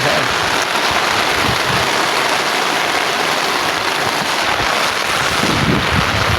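Heavy rain pours down steadily around a rural home kitchen, a dense, loud, unbroken hiss of drops on surfaces with no pause.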